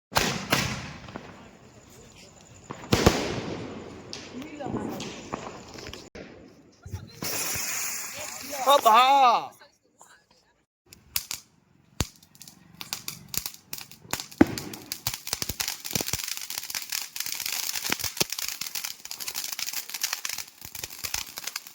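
Diwali firecrackers go off outdoors in a run of sharp bangs, crackles and a whistling rocket, loud and close, with people talking and exclaiming between the blasts.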